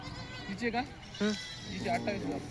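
Goats bleat at a rural goat market, several wavering, nasal cries at close range, one after another over a low murmur of background voices.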